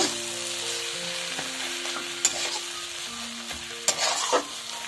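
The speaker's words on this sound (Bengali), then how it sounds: "আবারও মিনিট 2 নাড়াচাড়া করে নেব" Carrot oil cooking in a pan, stirred with soft scraping and a faint sizzle, broken by a couple of sharper knocks of the utensil against the pan, with no talking.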